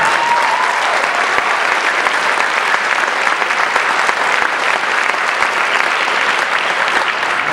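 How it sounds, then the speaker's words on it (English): A concert audience at a barbershop quartet anniversary show claps loudly, a dense sustained roar of applause filling the room, steady throughout and with no talk over it. "maybe if you clap loud enough just to say, hey, we recognize that you were 89 champions"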